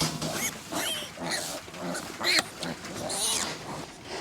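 A litter of newborn piglets on a hog farm grunts and squeals in a restless jumble of short, close cries, with a sharper squeal near the middle and a person's voice mixed in.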